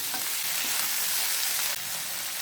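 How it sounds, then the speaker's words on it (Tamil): Onions and tomatoes are stirred and fried in a pan for channa masala, giving a loud, continuous hiss of sizzling with faint scraping underneath and no talking. "இப்போ 2 தக்காளியை கட் பண்ணி வச்சுருக்கேன், அதையும் இதை சேர்த்துப்போம். இதை நல்லா கலந்து விடுங்க."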